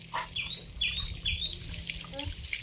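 Running water rinses soap off a dog during a bath, a steady, close wash of flowing water with bird chirps in the background and no voices.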